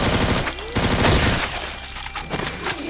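Light machine gun fire in Doom, rapid loud bursts of automatic shots in a couple of rattling volleys mixed with game effects, close and dense.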